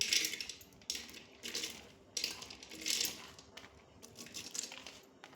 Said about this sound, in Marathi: ही सर्व डाळ मी या कुकरमध्ये घालते.